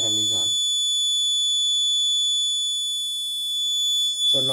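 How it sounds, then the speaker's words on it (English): A face-mask-detection door lock's alarm buzzer sounds as a steady, loud electronic tone held for several seconds, with brief speech at the start and end. "okay, no face mask, alarm is on."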